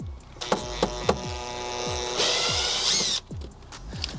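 A compact power tool whirs as it backs out 10 mm OEM screws on a G80 M3, with a sustained high motor whine between sharp clicks and thumps, close and loud, with no voices.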